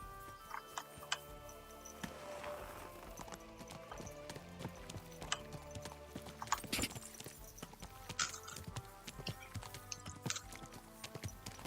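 Horse hooves clip-clopping in a video game, a steady run of close hoofbeats with an occasional whinny over a busy game soundscape; people talk in Portuguese and English nearby.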